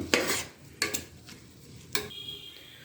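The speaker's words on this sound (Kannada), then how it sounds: "ಚೆನ್ನಾಗಿ ಅಕ್ಕಿನ ಈ ಥರ ಹುರ್ಕೊಳ್ಳಿ ಎಣ್ಣೆಯಲ್ಲಿ" Rice grains being stirred and roasted in oil in a metal pan for ghee rice, with three sharp scraping clatters of the spoon against the pan, each fading into a softer rattle and faint sizzle, close by.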